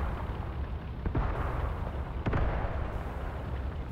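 Frag grenades exploding in the Graviteam Tactics tank battle game, two dull booms a second apart over a steady low rumble of battlefield noise.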